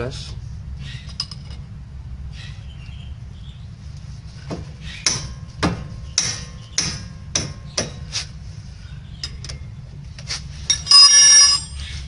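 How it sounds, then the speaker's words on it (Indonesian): A size 12 wrench works a front brake caliper bolt loose on a Honda Brio: a run of sharp, close metallic clinks and taps, irregularly spaced over a low steady background hum. "selanjutnya kita akan mencopot baut ya, yaitu yang dari bawah itu. Menggunakan kunci nomor 12"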